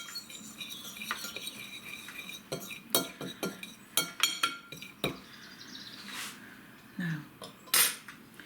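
Salt and pepper seasoning is stirred into chicken breast in a bowl with cutlery, making close, repeated metallic clinks and scrapes in short bursts, with a brief spoken word.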